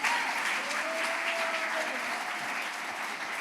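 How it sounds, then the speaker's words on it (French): A church congregation applauds continuously during a sermon, a steady, moderately loud wash of clapping with a faint sustained tone over it and a few low thumps near the end. "You should be clapping for that."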